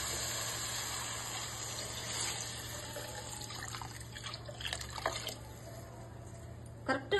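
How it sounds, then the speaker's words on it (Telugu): Water is poured into a cooking pot for egg biryani, a continuous splashing gush that swells and breaks into uneven splashes toward the end, with a voice talking quietly in the background. "ఇప్పుడు ఇందులో నీళ్ళు పోసుకోవాలి."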